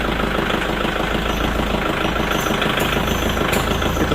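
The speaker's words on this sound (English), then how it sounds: "Because got our tractor running." A tractor engine idles steadily, a loud, close, continuous low rumble with an even mechanical throb and no change in pace.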